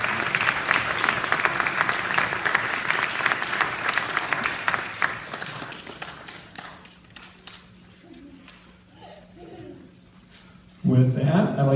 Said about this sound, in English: I want to just give a round of applause for all those other kids that are in Incubation.